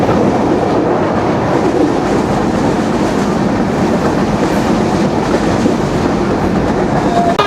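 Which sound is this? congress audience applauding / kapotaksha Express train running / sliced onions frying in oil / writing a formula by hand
kapotaksha Express train running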